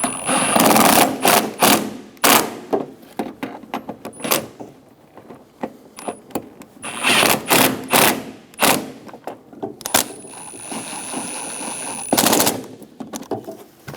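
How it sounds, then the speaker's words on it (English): Screws being driven down on the windshield wiper transmission of a 1988-1999 GMC K1500 pickup, with loud close bursts of rapid impact-driver or ratchet rattling separated by short pauses. "Get all 3 screws started and snug them down."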